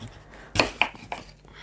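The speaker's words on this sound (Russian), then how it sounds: "Тыкву я почистила, теперь нужно нарезать ее такими достаточно крупными кубиками." Knife chopping peeled pumpkin into large cubes on a board, with three or four distinct dull thuds spaced irregularly, close and fairly quiet, no talking.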